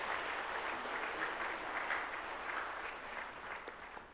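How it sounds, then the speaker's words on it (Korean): Congregation in a church's Sunday service breaking into warm applause, a dense, even wash of many hands clapping, moderately distant and sustained before tapering slightly near the end. "뜨거운 박수로 축하하십시다"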